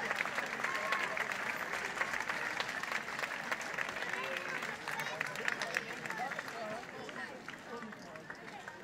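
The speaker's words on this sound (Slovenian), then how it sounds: "Dajmo aplavz, dajmo." Audience applauding at a Slovenian Army music performance for a family holiday event, a continuous patter of many hands clapping at fairly low level, with crowd murmur underneath and a slight fade toward the end.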